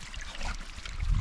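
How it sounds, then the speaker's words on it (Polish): A mountain stream in the Beskid Sądecki trickles and burbles steadily over rocks, a close, continuous flow with soft splashing and no talking. "No i górskie potoki, słuchajcie."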